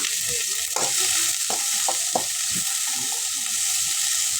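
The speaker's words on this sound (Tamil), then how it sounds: "கொஞ்சம் கூட கரு வெங்காயம் போட்டு கலந்துக்கணும்" Small onions fry with mustard seeds in hot oil in a pan, a loud continuous sizzle with a few soft stirring scrapes, close and without speech.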